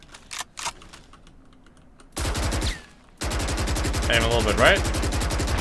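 Gunfire in Valorant aimed at Killjoy's ultimate wire on the Ascent map: loud rapid automatic bursts erupt after a quiet stretch of keyboard clicks, with a short spoken line and game effects mixed in.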